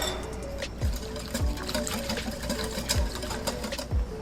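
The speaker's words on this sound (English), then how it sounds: "let's go ahead and whisk it up" Liquid marinade laced with liquid smoke is whisked briskly for beef jerky, a steady rhythmic clatter of the whisk against the bowl with periodic sharper knocks about every half second, close and moderately loud.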